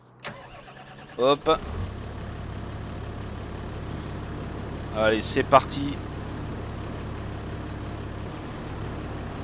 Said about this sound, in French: Allez, on va aller chercher le tracteur.